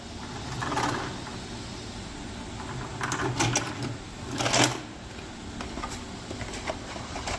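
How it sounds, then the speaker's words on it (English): A VCR ejects a videotape, a faint mechanical whirring and clicking of the tape transport with a couple of louder clunks, heard close in a quiet room without speech. "make sure that you do not have any videotape in the VCR. So eject."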